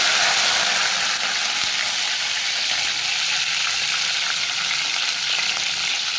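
Green chillies fry with cinnamon in hot oil, giving a loud, continuous, crackling sizzle close by, with faint stirring and no voices.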